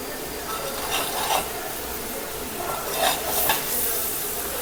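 A homemade hair dye oil with chia seeds bubbles and sizzles on a stove in a pan, a loud steady hiss with a few louder surges and scrapes.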